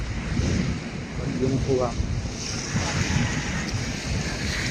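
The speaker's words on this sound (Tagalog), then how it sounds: "Talagang matataas yung alon dito." High ocean waves wash onto the beach at Dingalan in a constant rushing roar mixed with gusty wind noise on the microphone, while a person talks briefly over it.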